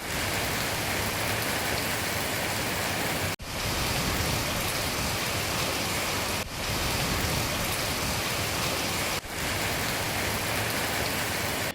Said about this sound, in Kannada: ಇವತ್ತು ಬಿದ್ದ ಬಿರುಸಿನ ಮಳೆಗೆ ರಸ್ತೆಗಳೆಲ್ಲ ನೀರು ಹರಿದು ಭೂಮಿ ತಂಪಾಯಿತು